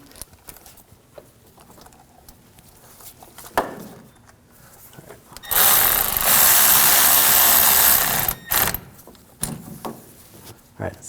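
Water pump bolts being tightened on a 2007-2013 BMW 328i 3.0L inline-six: a loud, sustained power-tool whir runs for about three seconds amid scattered clicks and clatter of work, with quiet speech-like sounds in the background.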